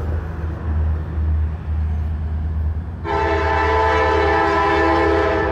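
A Buffalo and Pittsburgh Railroad train rumbles loudly nearby, then its horn blares in a sustained chord that continues to the end.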